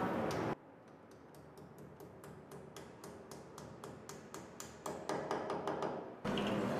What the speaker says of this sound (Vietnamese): ta dùng búa đóng vít nở vào các lỗ vừa khoan.